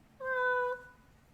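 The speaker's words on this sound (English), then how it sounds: "Does it sound like a little meow? Oh, it was a meow." A single cat meow, clear and close, about half a second long with a steady, drawn-out tone, rising out of a quiet background and fading back to near silence.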